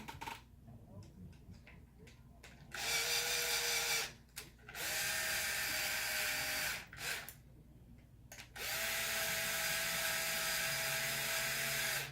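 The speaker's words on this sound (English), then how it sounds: "For this one, we are going to grab an electric screwdriver." An electric screwdriver drives screws into an AR60 rear axle on an RC build, running in three sustained whirring bursts of several seconds each, separated by brief clicks and small handling noises.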